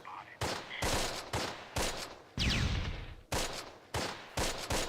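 Grenades burst in repeated sharp, loud cracks about every half second during a battle in Close Combat: Last Stand Arnhem, with a longer rumbling blast in the middle.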